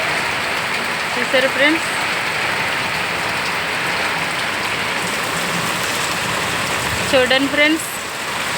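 Heavy rain pours steadily in Andhra with a dense, constant hiss, while someone talks briefly over it twice.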